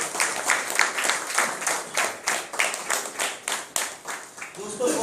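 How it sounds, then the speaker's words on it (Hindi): An audience at a ticket checking staff welfare association gathering claps in a loud, rhythmic unison, with evenly spaced beats repeating for about five seconds before a voice begins. "मैं चाहूँगा एक बार जोरदार तालियां आप।"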